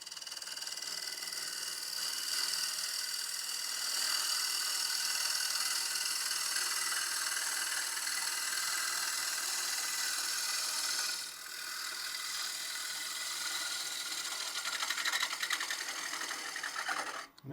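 Lathe tool cutting across the end grain of a holly vessel: a continuous high whirring hiss with a steady motor hum, close, with a brief dip and a rougher, louder scrape near the end.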